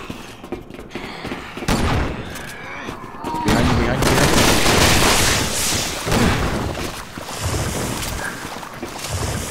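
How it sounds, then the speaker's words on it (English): Machine gun fire in the video game Resident Evil 6, loud dense bursts of rapid shots with booming impacts, with a voice talking over parts of the action. "Hey, look, I had a machine gun or something."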